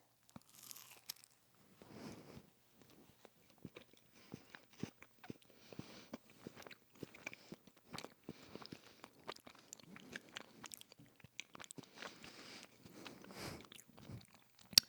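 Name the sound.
crunchy bite and chewing of food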